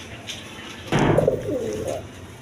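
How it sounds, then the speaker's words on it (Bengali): Pigeons coo in a bird market, one clear rolling, burbling call rising out of a quiet background, close and moderately loud. "এইখানে এক পেয়ার কবুতর আছে"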